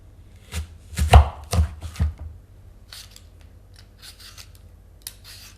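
A knife cuts apples on a board in a quick run of sharp, close chops, then several lighter, softer slicing taps follow after a short pause, with no talking.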